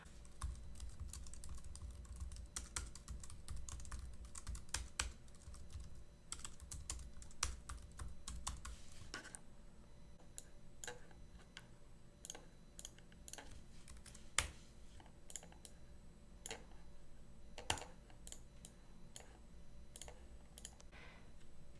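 Rapid clicking keystrokes on a computer keyboard as a name is typed, dense bursts at first, then sparser, scattered taps, close and fairly quiet with no voices.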